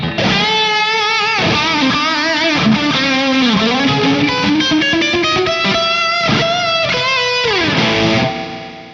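An electric guitar through a tube preamp's cathedral reverb setting plays a bending, sliding phrase drenched in a huge, washy reverb that lets each note ring out and blur together.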